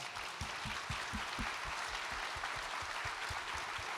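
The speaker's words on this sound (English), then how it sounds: "let's give them a round of applause" Faint, distant applause with steady clapping, soft and continuous from a crowd at a State of the Tribal Nations address.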